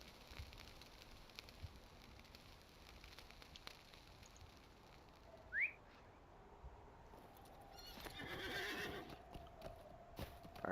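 A horse neighs and hooves clip-clop in the Lord of the Rings Online video game: a faint soft backdrop, a brief sharp whistle-like call, then a whinny rising near the end.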